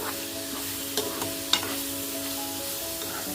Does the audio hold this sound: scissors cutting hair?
no